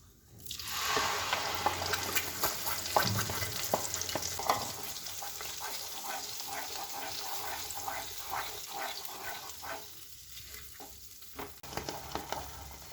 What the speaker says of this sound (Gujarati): તમાલપત્ર નાખી અને તમાલપત્ર તતડે એટલે આપણે આ જે ગ્રેવી છે એ ગ્રેવી એમાં ઉમેરીશું.